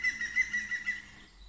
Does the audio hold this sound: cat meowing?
no